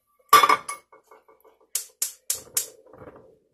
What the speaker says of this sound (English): Let me get my skillet.